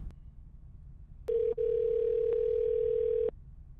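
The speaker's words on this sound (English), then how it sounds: "All right, I'm about to call." A steady telephone dial tone sounds while a call is being placed, a loud continuous hum lasting about two seconds with a couple of brief clicks, over a quiet background.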